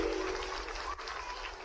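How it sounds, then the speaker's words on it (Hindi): A crowd at a public school groundbreaking event in Morena applauds, a steady, somewhat distant wash of clapping that holds evenly for under two seconds with no voices on top. "जोरदार ताली बजाओ श्रीमान नरेंद्र मोदी जी के लिए"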